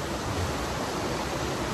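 Steady rain falling without pause, a dense, even broadband hiss that stays constant throughout, with no voices.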